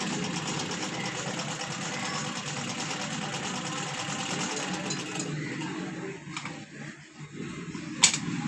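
A Shahzad sewing machine runs continuously, its loud, dense mechanical whir and rapid stitching chatter carrying without pause before slowing and stopping near the end, ending with a sharp click.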